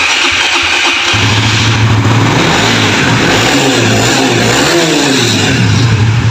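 A Suzuki GSX 750 motorcycle engine with 32,000 km fires up and revs repeatedly, the pitch climbing and falling in uneven bursts over a steady idle, loud and close.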